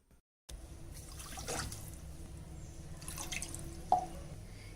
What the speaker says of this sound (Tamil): ரெண்டு கப்பு சுகருக்கு ரெண்டு கப்பு வாட்டர் சேர்த்துக்கலாம்